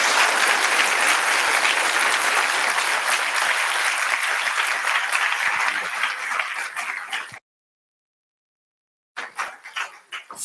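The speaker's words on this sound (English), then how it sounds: "Please join me in giving our debaters a warm round of applause." Audience at a live debate on Christian versus secular morality gives a warm round of applause, loud and sustained clapping that thins out, drops to silence, then resumes briefly at the end.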